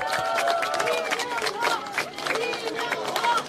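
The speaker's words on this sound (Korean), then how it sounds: "박수 한번 쳐주십시오" A crowd at a Korean by-election campaign rally claps and cheers in a short, dense burst of applause, with chatter and voices mixed through the clapping.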